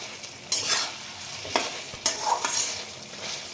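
Potatoes and masala sizzle in a frying pan as a spatula stirs them, giving several sharp scraping strokes with a frying hiss in between.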